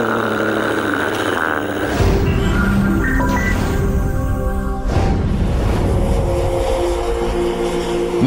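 A fixed-wing airplane comes in to land near Sheremetyevo International Airport, its engine roar loud and sustained with shifting tonal whines as it passes close.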